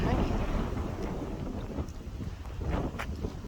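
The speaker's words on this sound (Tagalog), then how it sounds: "Rinig nyo yung hangin na yan. What a nice hangin." Strong typhoon wind roars and buffets the microphone on Mount Butler in heavy continuous gusts, rumbling loudly throughout.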